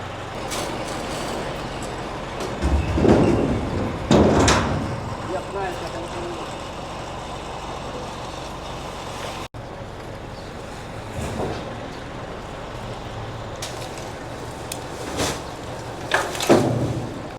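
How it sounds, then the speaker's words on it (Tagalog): A large garbage truck idles and rumbles nearby while hauling away trash, its heavy engine drone steady throughout with a few louder surges and clanks and no clear talk. "Eto na ang truck na tatanggal ng mga basura dito."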